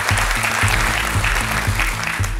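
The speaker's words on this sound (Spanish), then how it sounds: "Un aplauso para ella." Studio audience applause for a female guest on a Peruvian talk show, loud steady clapping over a repeating low musical hum, with no talking.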